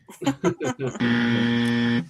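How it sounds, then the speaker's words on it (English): Several short speech-like bursts, then one long, loud, steady electronic buzzer tone sounding alone for about a second. "I'll do it with one big giant buzzer for everybody"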